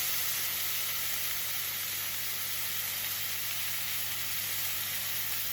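Steak seasoned with pepper frying in a hot pan, a dense, steady sizzle that holds at an even level throughout, close and unbroken with no voices.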